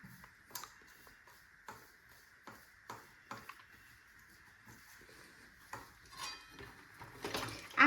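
Pepper powder and spices being mixed in a bowl bring a series of faint, sparse clinks and taps of a spoon against the dish, with a louder clatter of utensils at the very end.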